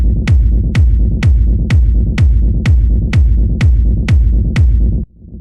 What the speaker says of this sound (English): the bass rumble, and it sounds something like this.